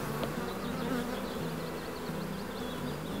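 Dense, steady buzzing of many honeybees close by at a wooden hive in an apiary, a continuous droning hum with small wingbeat flickers throughout and no voices.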